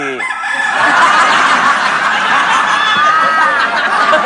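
A rooster crows loudly and close on a television studio show, its long call stretching across the clip while faint audience chuckles sit beneath.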